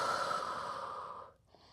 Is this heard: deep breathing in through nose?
yes